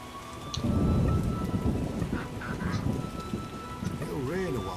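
Rain and thunder in The Witcher video game: a steady downpour patters throughout while a deep thunder rumble rolls in, with a voice talking over the storm.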